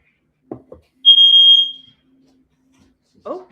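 A smoke detector lets out a single sustained high electronic beep of about a second, sitting between short bursts of nearby speech from people in a house where a dog is present.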